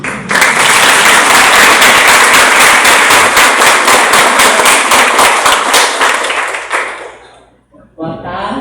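Sustained, loud applause from a seminar audience as speakers go up to the stage, dense continuous clapping for about seven seconds before fading, with a voice starting to speak just after.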